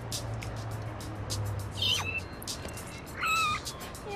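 Cat meows in the video game No More Heroes during a cat-hunting mission, two short mewing calls over a steady low game hum, fairly near.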